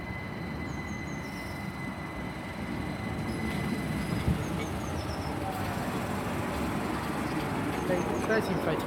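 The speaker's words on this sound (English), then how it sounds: "coming in now is the 1331 Great Western Railway service for Didcot Parkway. Double pairing of 387s." A Great Western Railway double pairing of Class 387 electric units pulls into a station, with steady wheel rumble and rail noise, faint squeals and a constant roar at moderate distance.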